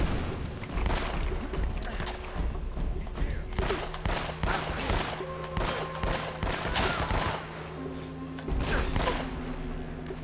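Rapid bursts of gunfire crackle through a firefight in the video game Uncharted: Drake's Fortune, with dense overlapping shots and impacts amid steady game ambience and music.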